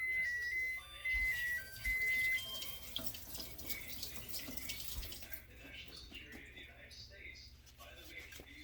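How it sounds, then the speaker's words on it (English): Jalapeño peppers rinsed under a running kitchen tap, a steady close gush of water splashing into a sink, joined by a few beeping tones early on, while a person talks throughout. "Now, with the jalapeno peppers, let me rinse these and wash them, okay?"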